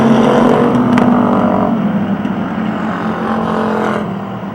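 Race cars running at Motordrome Speedway, a loud engine roar close by that swells and shifts in pitch as cars pass, continuous through the whole stretch with no commentary over it.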